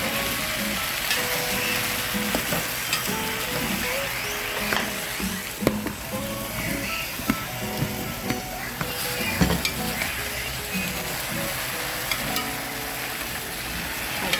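Breadfruit oil down, a Trinidad-style pot with salted pigtails and dasheen bush, being stirred as it sizzles in a pot; a steady bubbling fry runs throughout, with intermittent scrapes and knocks from the spoon against the pot.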